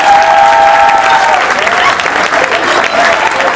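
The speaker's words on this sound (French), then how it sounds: "Sous vos applaudissements," Loud close applause from a comedy show audience welcoming master Wu to the stage, thick steady clapping with crowd noise and a faint tone at the start.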